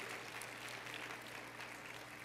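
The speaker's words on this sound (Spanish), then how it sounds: "Y déle otro aplauso al Señor." Steady applause from a church congregation, a dense wash of clapping that holds evenly throughout at a fairly low, distant level.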